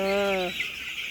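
A single drawn-out chicken call rings out briefly, then fades into a quiet outdoor background.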